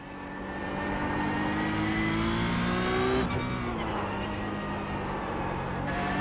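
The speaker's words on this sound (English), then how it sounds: "Alright, now you can floor it." A race car on track accelerates hard at full throttle, its engine note climbing steadily for about three seconds before an upshift, then pulling again loud and close with no talking.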